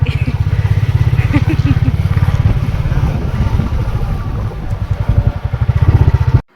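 A Royal Enfield Bullet motorcycle on a short ride through a few neighbourhood streets, its engine thumping steadily and close throughout, with rhythmic low pulses that cut off abruptly at the end.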